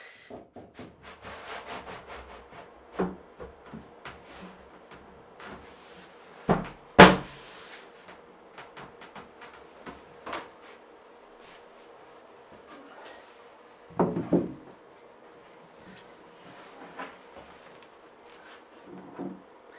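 Wood scrapes and rubs as a wooden cabinet drawer base slides into its slots, with a few soft knocks and one sharper bump partway through.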